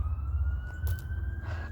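A police car siren wails steadily in the distance, its rising tone running through the clip over a low rumble of traffic.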